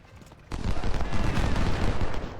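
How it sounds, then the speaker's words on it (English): A sudden loud barrage of cannon and musket fire on an American Civil War battlefield in a strategy game, a dense rumbling roar that begins abruptly and sustains without voices. "Artillery."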